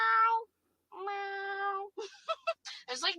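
A cat's drawn-out harmonic meows sliding up and down in pitch, two long calls separated by a pause, followed by choppy vocal bursts that may be a person imitating the meowing.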